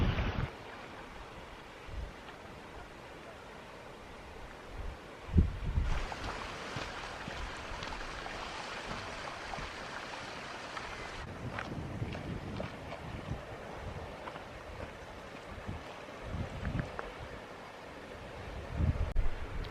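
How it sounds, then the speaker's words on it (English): Gentle waves lap on rocks at Kynance Cove in Cornwall, a soft, irregular washing heard alongside wind rushing against the microphone, with a few louder splashes. "all you can hear is the gentle lapping of the waves breaking on the rocks"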